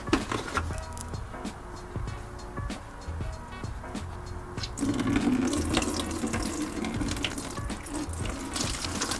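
Coolant runs and splashes out of a Toyota 100 Series Land Cruiser radiator into a bucket, a close trickling stream that thickens into a fuller pour partway through, with clanks of work nearby.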